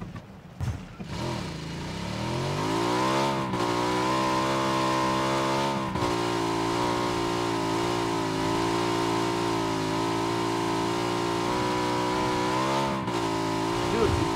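Motorbike engine in the PUBG video game, a loud, steady droning roar that revs up over the first seconds and then holds a sustained pitch with brief dips, close and continuous throughout.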